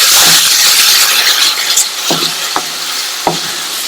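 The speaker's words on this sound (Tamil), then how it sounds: "ஒரு 1/2 நிமிஷம் போல இதை நல்லா மிக்ஸ் பண்ணி விட்டுருங்க" Carrot masala being stirred and fried in a pan, with a steady sizzle and hiss broken by a few distinct scraping strokes of the spoon, close and fairly loud, no talk.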